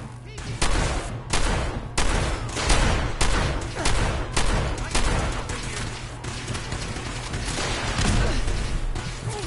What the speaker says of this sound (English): I'm hitting it with a shotgun.